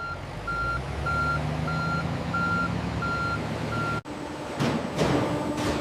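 Trucks at a cement factory give a regular series of loud reversing beeps over a steady diesel engine rumble, followed by a brief cut and a hiss of air brakes near the end.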